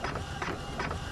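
An Epson inkjet printer, an L-series model such as the L3210, runs a job sent from a smartphone, giving a steady mechanical whir with repeated carriage pulses about every 0.4 seconds, close and continuous throughout.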